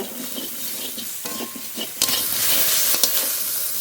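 Okra sautéed in a pan with salt and turmeric gives a close, continuous sizzle broken by repeated scraping stirs, growing louder and hissier partway through.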